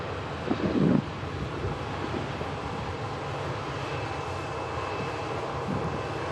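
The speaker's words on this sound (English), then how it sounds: "Really nicely done on the touchdown there. The Airbus Super Airliner." An Airbus airliner touching down at Manchester Airport on a wet day, a steady broad roar of engines and rushing air held throughout, with a brief bump near the start and wind buffeting the microphone.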